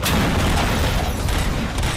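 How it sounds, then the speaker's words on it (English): Gunfire rattles through a RoboCop: Rogue City game scene. It is a dense, loud, continuous barrage of booming shots with no talking. "Gunshots?"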